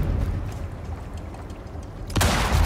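A rifle fires while hunting a wolf in the survival video game Icarus, a loud sharp blast near the end that rises out of steady rumbling game ambience.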